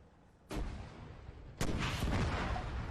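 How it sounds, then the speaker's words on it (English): Grenade launcher fire in an Arma 3 King of the Hill match: two sharp, loud blasts with a rumbling tail, one about half a second in and a stronger one near the midpoint, followed by continuing noisy battle din. "we just took the grenade launcher fire"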